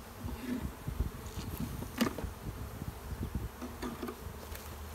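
Many honeybees hum and buzz together inside a hive in a dense, continuous drone, with individual bees flying close by now and then.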